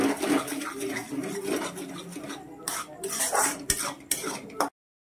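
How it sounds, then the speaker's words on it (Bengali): A metal spoon scrapes and clinks against a pan while cumin and Kashmiri chilli powder masala is stirred and fried, with close repeated scraping strokes over a low sizzle and a few sharp taps. "খুব ভালো করে ভেজে নেব মশলাটা।"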